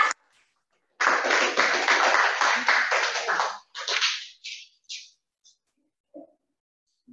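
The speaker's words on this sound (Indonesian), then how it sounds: "Tepuk tangan." Clapping from a small group in a classroom, a burst of a few seconds that breaks into scattered, fading claps and stray single hand slaps.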